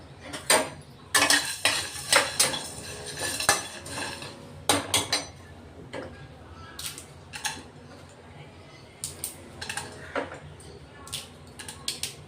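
Whole spices, star anise, black pepper, black cardamom and cinnamon pieces, being dry roasted in a pan, heard as repeated close scraping and clinking of a spoon against metal in uneven bursts, with no talking.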